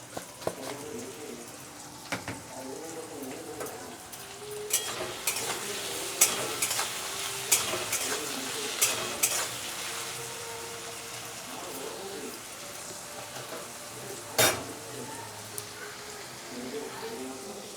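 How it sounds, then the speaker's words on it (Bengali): Small chopped, salted potatoes fry in hot oil in a kadai, a soft steady sizzle broken by scraping stir clicks and clatters, with pigeons cooing faintly in the background. "তেলটা গরম হয়ে গেছে আমি এবার ছোটো ছোটো করে কেটে রাখা আলু আমি দিয়ে দিলাম আলুটা হালকা করে ভেজে নেব"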